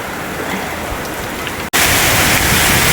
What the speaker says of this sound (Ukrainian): то дощ, то знову сонечко